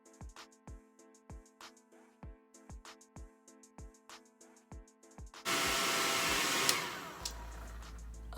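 Conair 3 in 1 styling blow dryer drying natural 4C hair, first heard as a rhythmic series of soft brushing or combing strokes, then the dryer switching on into a steady, loud, close roar with small shifts in tone.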